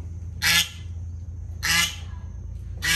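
A neighbour's goose honks loudly three times at a steady interval, each call harsh and close, over a low background hum with no talk.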